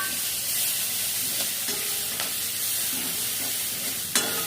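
Onion fries in oil with panch phoron and two bay leaves, a continuous close sizzle broken by a few sharp stirring taps.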